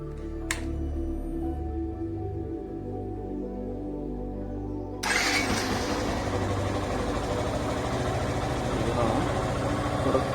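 A fuel-injected Yamaha FZ motorcycle engine, just after throttle body cleaning, cranks briefly and then catches, settling into a steady, fairly loud idle with a slightly high rev and a continuous low rumble.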